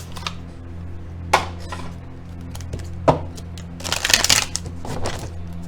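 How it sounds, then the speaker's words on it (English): An Angel of Abundance oracle card is drawn from the deck, with a few soft card-handling taps and a brief flurry of shuffling rustle near the end, close and fairly quiet. "I'm going to pull one last card from this deck"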